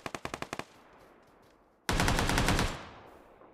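Gunfire in a video game: a quick burst of about seven sharp, evenly spaced automatic shots, a short lull, then a loud sustained rattle of rapid fire that fades away with its echo.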